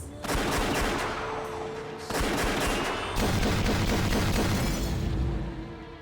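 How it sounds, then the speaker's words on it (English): Handguns firing in a gunfight in the visual novel Rose Guns Days, a dense burst of overlapping shots that swell into sustained rapid fire, loud and close, with a faint voice underneath. "The men's handguns all spat fire at once"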